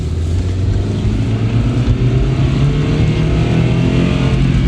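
A Mazda 3 on a test drive gives a loud, steady engine drone with rising tone as it accelerates, accompanied by continuous road rumble.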